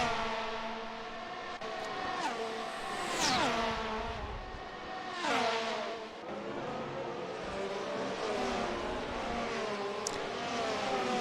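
Race cars in a Miami round of a racing video game roar and rev continuously, engine pitch climbing and dropping through gear shifts and turns, with several cars overlapping close by and no talk.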